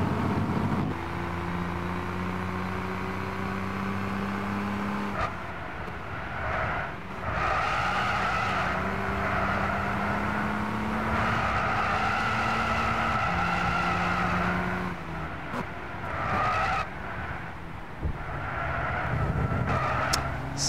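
Racing karts at Silverstone in an international kids' cup race, engines whining and shifting pitch repeatedly as they brake hard and accelerate, with tyre noise and several karts passing close over twenty seconds.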